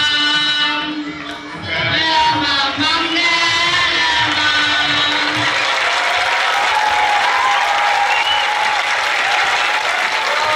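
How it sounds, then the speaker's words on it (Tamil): A packed hall audience at a stage performance bursts into loud, dense applause with shouts and whoops, following a sung passage that fades out in the opening seconds. "கரம் மண்டபம் நிறைந்த கரகோஷம்"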